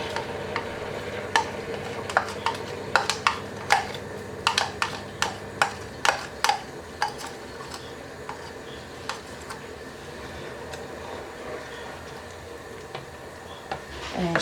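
Garlic being stirred into seafood boil sauce in a pot, a spoon tapping and scraping against the pot in a steady run of sharp clicks that thin out toward the end.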